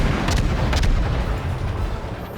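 Naval guns on a Benson-class destroyer firing in World of Warships, heard as heavy booming volleys over a continuous low rumble, with a couple of sharper blasts early on and no talk.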